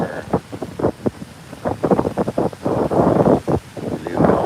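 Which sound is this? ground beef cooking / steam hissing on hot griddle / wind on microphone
wind on microphone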